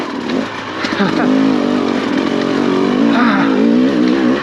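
A dirt bike engine in the wrong gear revs high and strains, its pitch wavering up and down as it labors, close and loud.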